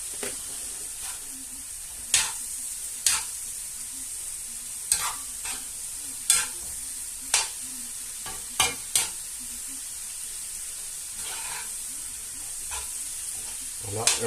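Spinach cooking in a pan, seasoned with salt and pepper, gives a steady soft sizzle and hiss, broken by a dozen sharp scrapes and taps as it is stirred; no one talks.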